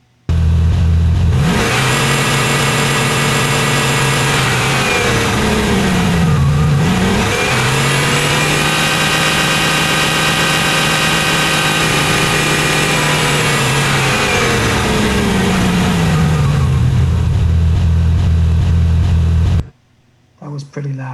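A Porsche Carrera engine revs hard and holds at high pitch, dipping briefly before climbing again, loud and close, then cuts off near the end.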